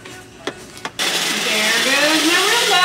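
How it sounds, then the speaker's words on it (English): A Roomba robot vacuum cleaner starts up indoors: two sharp clicks, then a loud, steady whirring motor with a rising whine, close by and alone. "There goes my Roomba."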